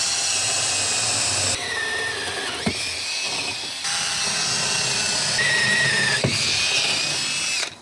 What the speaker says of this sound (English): I'm going to take this hole drill, then drill holes, and then knock out the bottom